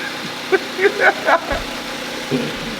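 Mazda MX5 NC engine running at a low, steady idle-like hum underneath someone speaking briefly, fairly quiet and close.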